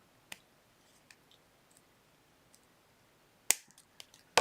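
A wire cutter snips the tips of wire wrapped around a sliced seashell, giving a few sharp isolated clicks spread apart in a quiet room, with a louder pair of snaps near the end.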